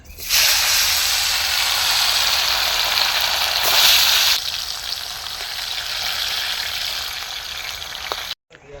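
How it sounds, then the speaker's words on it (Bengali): Potatoes for a meat dish frying in hot oil outdoors on a Ganges riverbank, a loud, steady, close sizzling hiss that runs without a break, swells slightly midway, then cuts off abruptly near the end. "এবার আমরা মাংসের আলুটা ভেজে নিচ্ছি"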